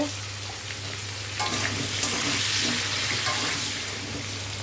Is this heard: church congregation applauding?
no